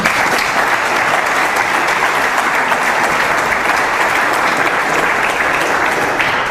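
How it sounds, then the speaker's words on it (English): Steady, dense applause from a lecture audience at a keynote talk, even in loudness from start to finish with no voices over it. "I think she should get an applause"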